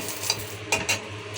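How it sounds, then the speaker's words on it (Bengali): Green chillies fry in a wok with a soft, steady sizzle, punctuated by a few brief scraping clinks of a spatula stirring them, close by and without speech. "যে কাঁচামরিচগুলো টেলে নিচ্ছি।"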